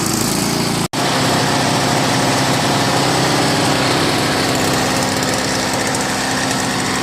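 A Snow Commander snowblower's small engine runs at a steady loud idle after starting, a continuous close rattling drone with one brief dropout near the start.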